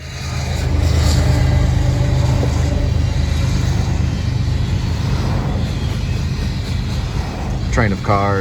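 A line of cars passes on a street in Roanoke, a loud continuous roar of traffic swelling and fading as vehicles go by one after another, with a brief squeal near the end.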